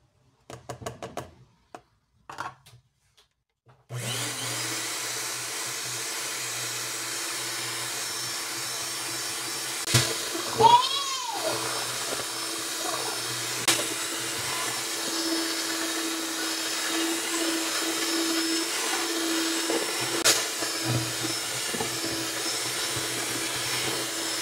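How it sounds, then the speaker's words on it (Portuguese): Electric mixer beats corn flour cake batter with a steady close whirring drone, preceded by a few short knocks and clatters, with occasional bumps against the bowl. "essa parte de bater as farinhas pode bater bastante, tá?"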